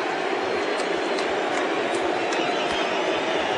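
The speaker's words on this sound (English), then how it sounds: "You hear the crowd cheering." An arena crowd at the 1990 NBA Slam Dunk Contest cheers in a steady, dense roar that holds level throughout, with no break.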